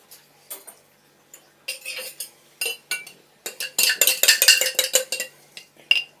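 A metal spoon scrapes and clinks inside a glass jar of lasagne sauce in a home kitchen, with irregular bursts of scraping that grow busier and louder toward the end.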